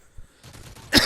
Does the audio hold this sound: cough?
yes